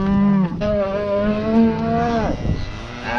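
Cattle in a farm pen moo loudly and close by, with several long, drawn-out low calls that bend in pitch and overlap one another.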